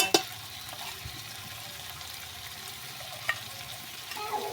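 Chicken with cumin and coriander powder sizzles steadily in a pan, with a few sharp utensil clicks while the spices are stirred in for chicken kosha.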